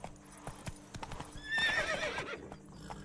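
Roach the horse in The Witcher 3 gallops with steady clip-clop hoofbeats, then lets out a clear, drawn-out neigh partway through, moderately loud over faint game ambience.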